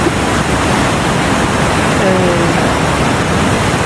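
Bagsit River water in Palauig, Zambales rushes loudly and continuously, a dense steady roar of flowing water that fills the whole clip.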